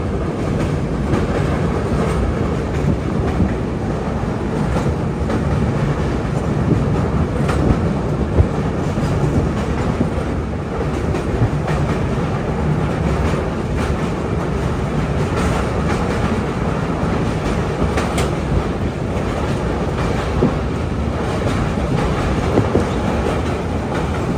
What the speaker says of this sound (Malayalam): അതുവഴി ഇപ്പോൾ ഒരു ട്രെയിൻ വരണമായിരുന്നു അല്ലേ?